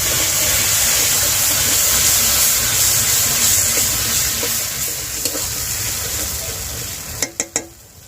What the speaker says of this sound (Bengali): এবার টমেটো বাটাটা দিয়ে দেবো।